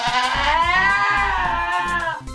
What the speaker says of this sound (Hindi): एसओपी ये तो हमारे बकरे का नाम है